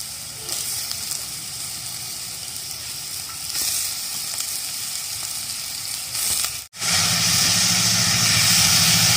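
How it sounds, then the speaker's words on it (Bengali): Steady, loud sizzling of potatoes frying in hot mustard oil, a continuous crackling hiss with a brief dropout before it resumes. "এবার লাল লাল করে আলুগুলো ভাজা হবে"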